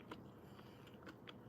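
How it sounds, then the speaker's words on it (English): Crunchy fried chicken is bitten and chewed, a few faint, quick crisp crackles spaced through a quiet moment, close to the microphone with no talking over it. "You can hear the crunch on it."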